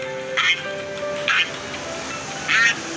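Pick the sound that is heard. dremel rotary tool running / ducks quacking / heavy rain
ducks quacking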